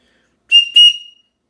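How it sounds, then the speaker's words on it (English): A small survival-kit whistle is blown twice in quick succession, giving loud, shrill, close tones. The second blast is slightly longer and trails off. "But here's the whistle."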